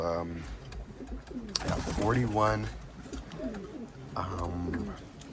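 Racing pigeons in a loft of about forty birds coo softly in the background while someone talks over them close by.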